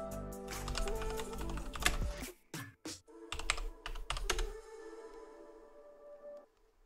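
Close computer keyboard typing comes in quick clustered keystrokes, then thins out to a few scattered clicks before fading toward quiet.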